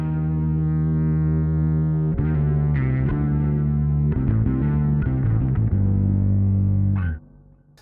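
An electric bass through a Darkglass Electronics Kaamos pedal and distortion plays a few sustained low notes and short riffs, thick and buzzy, then cuts off near the end.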